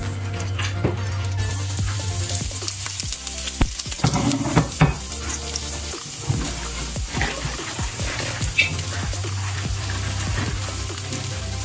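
Sesame seeds, ginger and garlic fry in hot oil for a Gobi Matar Masala dish, with a continuous close sizzle, a low steady hum underneath, and irregular scraping stirs and clicks from a spoon in the pan.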